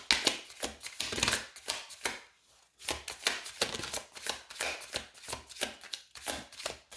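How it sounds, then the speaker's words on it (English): Tarot cards shuffled by hand at close range, a steady run of crisp riffling and slapping bursts with one brief pause partway through, no talking. "We shuffle on camera"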